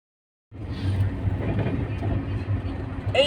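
A night train runs with a low, steady rumble that starts abruptly and rolls on continuously, while faint voices murmur in the carriage.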